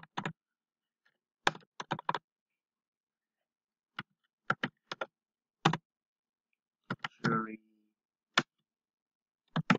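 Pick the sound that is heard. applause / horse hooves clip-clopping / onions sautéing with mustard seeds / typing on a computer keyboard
typing on a computer keyboard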